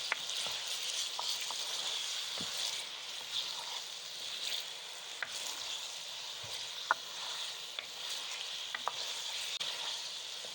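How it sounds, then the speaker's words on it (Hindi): Chicken frying in ghee in a clay kadai for a white chicken kadai, giving a faint, steady sizzle with occasional small pops and stirring knocks throughout. "चिकन को अच्छी तरह से घी में फ्राई करना है।"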